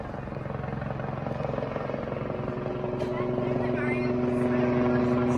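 A helicopter circles low over a hillside area, its rotor chop and engine drone steady and close, growing slightly louder, while a voice talks over it.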